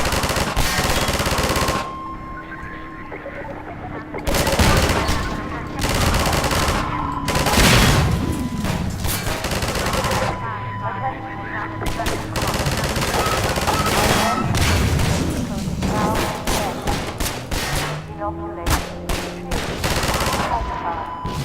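Rapid automatic gunfire from Half-Life 2 played in VR, loud repeated bursts and volleys of shots with short pauses between them, filling the whole stretch alongside game ambience.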